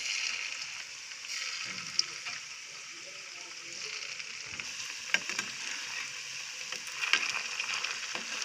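Yogurt-based Mysore bondas deep frying in hot oil in a kadai, a steady bubbling hiss at moderate distance with a few faint clinks, low and even throughout.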